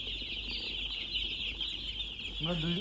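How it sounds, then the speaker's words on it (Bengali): Broiler chickens on a poultry farm with about 2,500 birds produce a steady, dense wash of clucking and chatter, joined near the end by one closer, louder cluck. "হ্যাঁ, 2500 মুরগি আইটেম করছি।"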